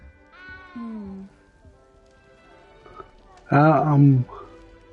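A cat meows twice inside Hogwarts Legacy, a higher drawn-out call followed by a louder, lower wavering meow, set against quiet ambient game sound.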